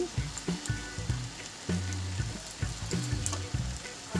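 Slit green chillies dropped into hot oil for a masoor dal with young cabbage, giving a steady close sizzle and crackle with low tonal sounds running beneath it.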